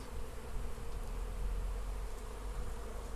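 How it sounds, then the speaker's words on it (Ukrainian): Young honeybees buzz around hives on an orientation flight, a soft, continuous droning hum of many insects, fairly faint and steady without voices. "Це насправді молода бджілка облітується"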